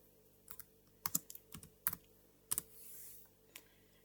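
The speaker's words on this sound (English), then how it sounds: "I'm now going to type in Docker" Quiet, close keystrokes on a computer keyboard as a command is typed, a few clustered taps with short pauses between them in an otherwise still room.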